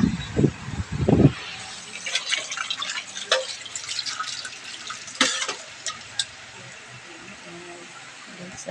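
Water splashes and trickles into pet bowls as it is poured, a few louder splashes early, then quieter drips and running water close by, with a voice speaking briefly.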